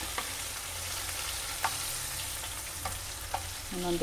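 Okra (ladies finger) masala fry being stirred in a pan, a steady close sizzle with a few soft scraping clicks of the spoon and a brief clatter near the end, no talking.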